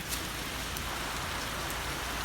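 Steady rain falls at a Thai elephant camp, a dense, even hiss of drops on surfaces with a few brighter patters, continuous and close, with no voices.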